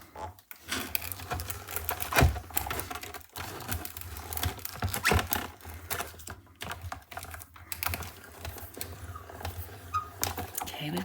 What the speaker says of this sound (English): I'm cutting through my cardstock through the wax paper. So let's go ahead and we'll crank this through.